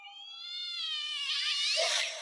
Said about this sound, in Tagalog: Kinse, kinagat ako nitong pusa.